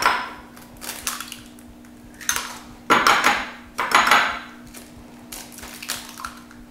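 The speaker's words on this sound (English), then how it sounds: "Got two eggs here, and I'm going to beat them until they are nice and lemony looking." Two eggs beaten in a bowl, with bursts of quick whisking clatter against the sides separated by brief pauses, close and fairly loud over a steady low hum, no talking.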